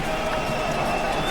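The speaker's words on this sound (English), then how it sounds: "The Saudi Arabian fans cheer their approval that he's back on his feet." Saudi Arabia supporters in a stadium during a match against Mexico send up a broad, steady roar of cheering, a dense crowd wash heard from a distance for a brief moment.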